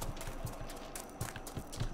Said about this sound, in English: yes, those footsteps are getting louder